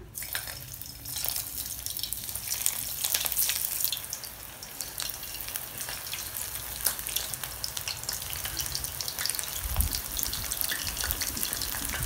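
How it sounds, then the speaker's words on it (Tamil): Soya chunks (meal maker) frying in hot oil, producing a steady, dense sizzle that holds close and moderately loud throughout, with no talking. "எண்ணெய் நல்லா சூடாயிடுச்சு நம்ம மிக்ஸ் பண்ணி வச்சுருக்கூடிய மீல் மேக்கர் இதில் சேர்த்துடலாம்"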